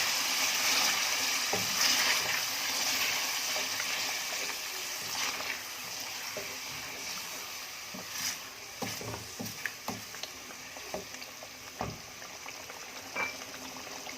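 A glass of water poured into frying mutton masala for shorba, sizzling and bubbling steadily at close range for the whole stretch, with scattered clicks and clinks of utensils breaking through near the end.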